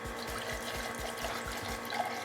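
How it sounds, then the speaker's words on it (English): Wine is poured into an emptied San Marzano tomato can that still holds some tomato paste, making a steady, close, liquid splashing and gurgling for a couple of seconds with soft low thumps underneath. "Just put it in your San Marzano can and then pour in some wine."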